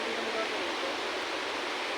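River in the Mt. Banahaw forest rushing steadily, a dense, even hiss of flowing water close by with faint voices in the background.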